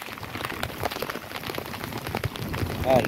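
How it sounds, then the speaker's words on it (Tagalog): Heavy rain pattering steadily in a dense, hissing wash of drops over a rice field, close and fairly loud, growing slightly stronger toward the end. "Yung lakas ng ulan."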